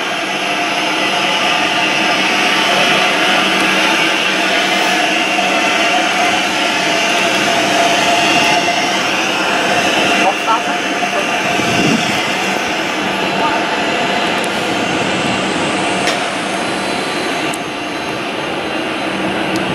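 Steady loud whine and roar of air conditioning equipment running at a McDonnell Douglas MD-11CF cargo aircraft during a ground walkaround, continuous and close, with a person talking intermittently over it.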